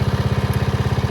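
A Pacesetter Trailbuck mini bike's small engine idles close by with a fast, even putter of regular pulses, loud and steady throughout with no voices.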